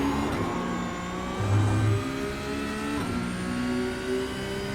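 Porsche 911 Cup (992) race car accelerating on Daytona Road in iRacing, a steady high engine drone climbing through the revs with a brief gear-change dip, loud and continuous.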